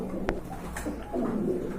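Fancy pigeons at a farm give low, soft coos close by, with a short sharp knock early on and a murmuring coo later, over a faint background hum.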